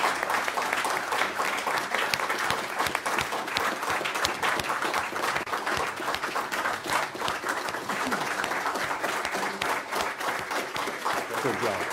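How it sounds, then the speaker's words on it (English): Audience applause at a county legislative meeting, a dense, steady wash of many hands clapping that holds evenly for about twelve seconds, with faint voices mixed in underneath. "Do we have a round of applause?"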